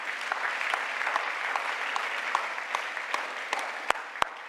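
A church congregation claps together in sustained, even applause, fairly near and filling the space, with a couple of sharper individual claps toward the end and no talking.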